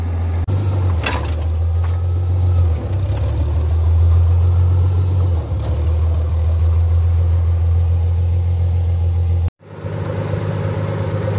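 A Farmall 756 tractor engine idles with a steady, close, low mechanical rumble that holds throughout, then cuts out sharply near the end before resuming.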